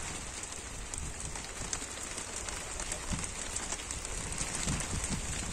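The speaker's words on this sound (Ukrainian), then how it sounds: "Тут пада такий град з крупом сніжним, як би мог повідати." Hail mixed with snow pellets falling over Kunów, a dense steady patter of small icy grains hitting surfaces close by, continuous and even throughout with no voices.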